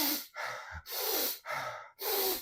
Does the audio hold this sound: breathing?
yes